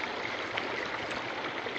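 Forest mountain stream after days of stormy rain, water flowing and splashing in a steady close rushing babble with no voices over it.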